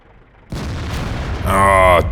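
A JagdPz E-100 tank destroyer fires its heavy cannon in World of Tanks, a deep booming report followed by a tonal ringing reload or hit sound, with a voice talking underneath.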